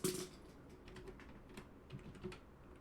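Rapid, close keystrokes on a computer keyboard while a program is typed, an irregular pattern of light clicks filling the short stretch with no talk.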